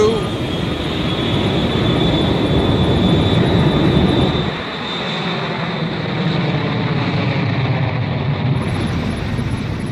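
Boeing 757 jet airliner on its takeoff roll, a loud sustained jet engine roar with a high whine, shifting as the aircraft rotates, heard from the cockpit with crew callouts spoken over it.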